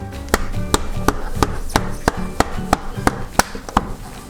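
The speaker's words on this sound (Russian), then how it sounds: "и легкими ударами штапик задвигаете" A series of sharp, regular taps from a hammer tapping a glazing bead into a plastic window frame, about a dozen evenly spaced knocks, close by with no talking.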